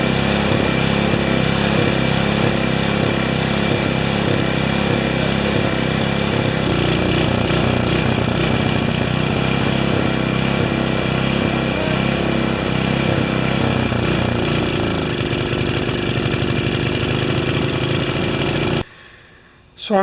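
A 5HP Sno-Trac snowblower engine running rough, a loud continuous close-up drone with uneven surging and missing, ending with a brief drop near the end.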